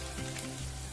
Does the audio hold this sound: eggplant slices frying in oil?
yes